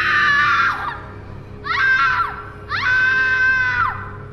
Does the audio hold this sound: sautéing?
no